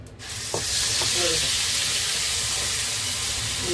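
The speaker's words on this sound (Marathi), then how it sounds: "वाटण टाकते, मस्त या वाटणाला शिजवून घेते" Malvani masala paste made with fresh coconut drops into hot oil and bursts into a loud, continuous sizzle that holds steady, with a few faint clinks of a stirring spoon near the start.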